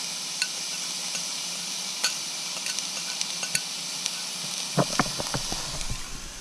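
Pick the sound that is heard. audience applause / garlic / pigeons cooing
garlic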